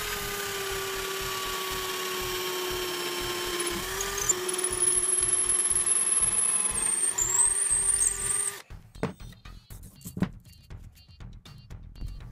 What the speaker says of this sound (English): I drilled 2 6mm holes in the top to make room for the LEDs.